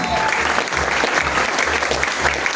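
An audience at a stage event claps loudly and continuously as directors are called up, a dense sustained applause with rhythmic group clapping close by and crowd noise mixed in.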